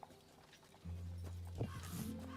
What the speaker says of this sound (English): I'll dismiss my horse.